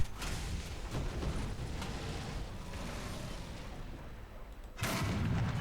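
A tank cannon in War Thunder sends out heavy rumbling booms over a dense, continuous battle roar, with a sharp, loud blast near the end.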